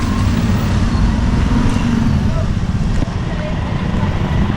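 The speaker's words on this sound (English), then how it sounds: "The classic Tulum traffic. Bumper to bumper." Bumper-to-bumper car traffic in Tulum, a loud, steady low engine rumble from idling and creeping vehicles heard up close, with a brief dip partway through.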